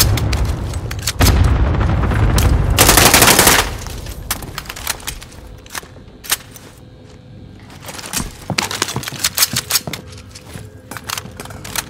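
XM4 assault rifle firing in the video game Call of Duty: a sustained, loud burst of automatic fire, then scattered shots and short bursts with booming impacts, all close and dense.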